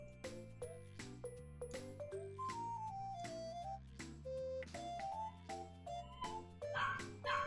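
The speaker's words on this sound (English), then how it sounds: "My dog is barking up a storm" Pet dog barking repeatedly indoors, sharp yaps and whining cries in an uneven rhythm, moderately loud and near, with some clinking in the background.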